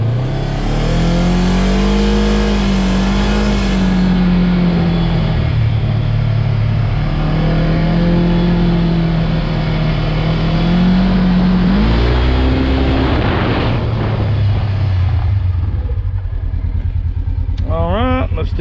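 Polaris RZR 900 S UTV with power steering and 4x4 runs steadily up close, its engine note rising and falling through several gear shifts, with a brief spike of revving near the end.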